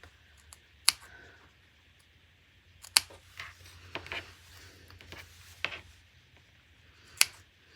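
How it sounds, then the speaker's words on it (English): A small pair of snips cuts into the curves of a fabric seam allowance on a scissor case, giving a few sharp, isolated clicks spaced seconds apart in a quiet room, with no talking. "if you've got a little pair of snippies, we're just gonna snip the curves"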